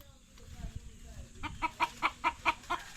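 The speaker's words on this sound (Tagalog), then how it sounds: "May manok dito." A chicken clucks in a short run of about six rhythmic, fairly close calls, heard over low background rumble.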